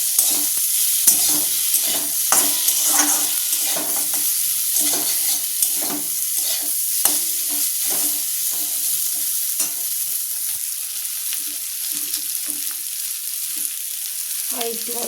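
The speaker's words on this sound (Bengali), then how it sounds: "কলাটা সেদ্ধ হয়ে গেছে, এবার এটাকে লাল লাল করে ভেজে নেব।" Boiled banana fries in oil as a spoon scrapes and stirs the pan in a steady rhythm of clicks over a continuous close sizzle.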